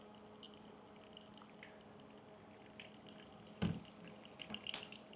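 Hot water poured over Ethiopian enzymed-washed coffee grounds in pour-over brewing, a faint trickle with soft drips and small splashes, quiet and close, with one brief louder knock midway.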